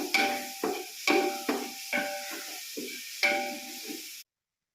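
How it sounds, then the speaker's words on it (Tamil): Garlic sautéing in oil in a pan for kalyana-style biryani, giving a steady sizzling hiss with repeated sharp flare-ups as the cloves are stirred, close and fairly loud before cutting off abruptly. "பூண்டு நல்லா ஆயில் வெளியே வர அளவுக்கு நல்லா வதக்கணும்."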